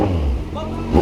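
Kawasaki Z1000 motorcycle engine revving hard and accelerating, a loud, close, steady roar lasting about a second that swells again at the end, with voices talking over it.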